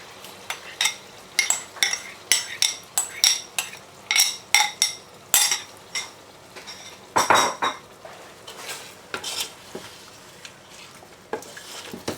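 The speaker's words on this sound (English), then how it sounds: "Quickly we will give a stir." A metal spoon repeatedly scrapes and clanks against a pot as yogurt (curd) is stirred into Avadhi biryani, with bursts of rhythmic clatter for most of the stretch before it quiets near the end.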